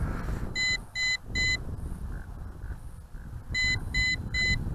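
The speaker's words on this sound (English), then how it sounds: "triple beeps intermittently indicates the first phase of low voltage return to home" Two sets of three quick electronic beeps from an MJX B12 EIS drone's low-voltage warning, high and sharp, separated by a pause, over a low background rumble.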